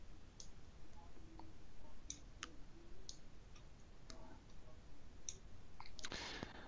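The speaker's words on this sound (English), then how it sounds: "I'm going to click save" A computer mouse clicks several times, in sharp, sparse, faint taps spaced irregularly over quiet room noise, with no one speaking.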